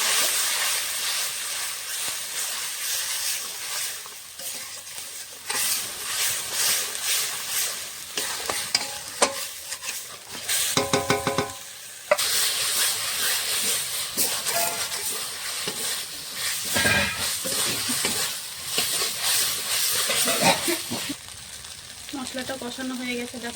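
Spice paste of garlic, turmeric and ground masala stirred and frying for a chicken curry, a steady sizzle broken by scraping stir strokes in a pan, loud and continuous with brief pauses and no talk.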